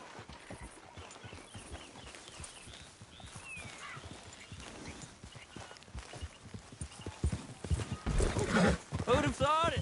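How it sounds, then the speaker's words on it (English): A horse moves at a gallop in the Red Dead Redemption 2 video game, with repeated hoofbeats thudding rhythmically and growing louder toward the end, a brief whinny, and voices talking over the hooves. "Grab your horse and let's go."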